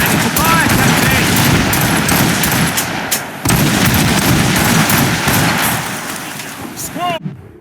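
Ship cannons and gunfire roar during a naval battle in Assassin's Creed Rogue, a loud continuous barrage of blasts and crackling shots that dips briefly midway and fades near the end under shouting voices.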